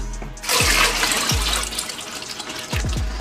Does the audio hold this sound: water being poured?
yes